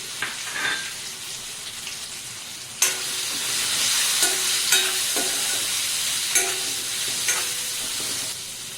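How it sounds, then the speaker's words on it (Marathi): Eggplant, tomato and jujube berries sauté in oil for Bhogichi bhaji. A loud sizzle jumps up after a quiet start, then steady frying continues with several sharp stirring clanks spaced through it. No voices are heard. "त्यासोबत वांगी, टमॅटो, वांगी आणि ही बोरं ही छान तेलात परतून घ्यायचे."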